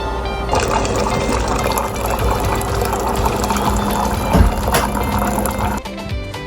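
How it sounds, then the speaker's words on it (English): A steady stream of hot water pours from a dispenser into a bowl, with a hissing, gurgling flow under a faint mechanical hum, then cuts off near the end. "I'm going to use this hot water feature and make it really hot to add to the bowl"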